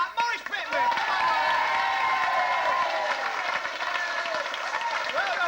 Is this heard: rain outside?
no